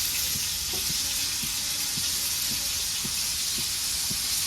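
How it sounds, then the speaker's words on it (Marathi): Corn cob frying in oil in a pan while being turned with tongs, giving a steady bright sizzle throughout with soft regular knocks of the cob shifting against the pan. "तेलामध्ये सगळं फ्राय करून घेते मी ह्याला मस्तपैकी"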